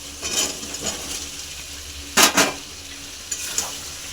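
Jackfruit and potato being stirred with spices in a hot pan, a soft sizzle broken by a few scraping bursts of the spatula, one loud stir in the middle, and no talking.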